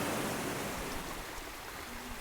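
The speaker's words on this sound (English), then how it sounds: "You can see the water that is pouring down from the mountains and into the Chubetsu Lake." A mountain spring-fed river in Japan rushes toward Chubetsu Lake, giving a continuous broad roar of flowing water that stays steady throughout, with no voices.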